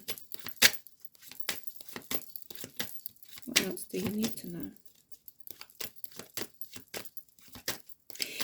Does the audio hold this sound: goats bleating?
no